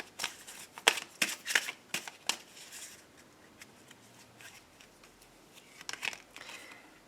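Oracle cards are shuffled for a card reading, producing a close, quick run of riffling and flicking bursts that thins into softer, sparse card handling, with no speech.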